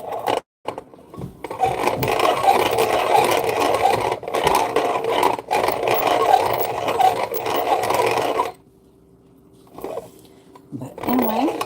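Chicory root ground in a grinder, a sustained rough whirring and scraping that runs for several seconds, stops, then returns briefly, with a voice talking over parts of it.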